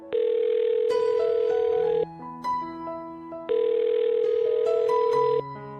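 A telephone plays dial tones while a number is dialed: long steady tones alternate with short stepped button beeps, loud and close, in two matching rounds.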